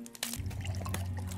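Water being made in Day R Survival, a short splashing pour or gurgle that starts abruptly after a brief click and runs steadily for about a second, fairly close.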